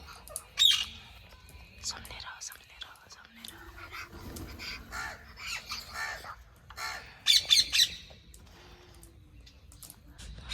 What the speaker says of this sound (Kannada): ನೋಡ್ತಿರ್ಬೋದು ಎಷ್ಟು ನವಿಲುಗಳಿದ್ದಾವೆ ಇಲ್ಲಿ